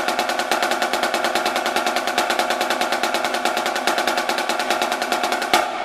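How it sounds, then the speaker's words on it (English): A marching snare drum plays a steady, dense stream of fast 16th-note strokes, then closes into a buzz roll that cuts off near the end, loud and close with no voices. "I'll do two beats of 16th notes and then two beats of a roll."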